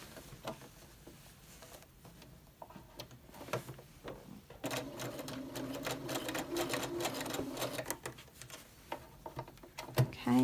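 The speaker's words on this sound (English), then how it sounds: "in the seam allowance up here, I'm just going to stitch right across it just to hold it there." Sewing machine stitching straight across the seam allowance of a skirt placket, a steady close-up whirring run of fast needle strokes that starts partway through after quieter handling sounds.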